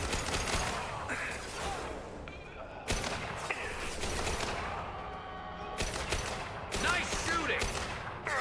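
Rapid bursts of gunfire from a firefight in the Mass Effect 2 video game, several loud volleys separated by brief lulls, with combat effects layered throughout.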